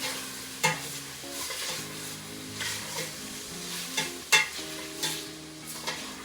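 Bacon frying and browning in a soup pot, with a steady low sizzle and occasional stirring scrapes and clinks, close up with no talking.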